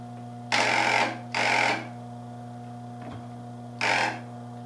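A Honda CB125T motorcycle's starter cranking the engine in three short bursts, each about half a second, with pauses between; the engine never catches, and a steady electrical hum runs underneath.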